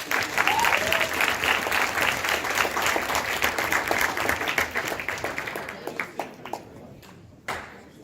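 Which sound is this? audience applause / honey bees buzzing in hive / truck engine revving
audience applause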